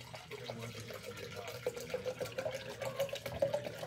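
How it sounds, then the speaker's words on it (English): Tap water runs steadily into a container or sink indoors, a soft continuous splashing trickle with a rising filling tone, fairly quiet and without voices. "Water."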